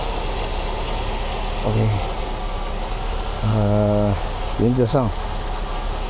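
A Mercedes W126 300SE engine idles steadily at about 700 rpm after a fuel distributor repair, a low even hum under a voice and a few short electronic beeps.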